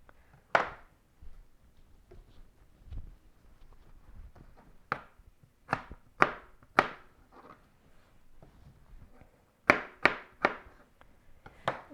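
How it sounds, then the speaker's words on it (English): A knife trims a piece from the edge of a potato in a home kitchen, producing a series of sharp, close chopping knocks on a board, spaced irregularly with short gaps between them. "my potato just here is looking a little bit nasty on the edge, so I'll just trim that little piece away"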